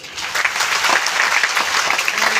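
An audience at a kavi sammelan poetry recital and mushaira at a university claps loudly and steadily, a dense, continuous applause that holds throughout without speech over it.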